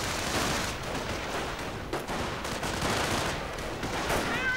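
Dense, continuous gunfire from a WWII strategy game, with overlapping rifle and machine-gun bursts as assault grenadiers take heavy fire in a battle, steady and loud throughout with no talk.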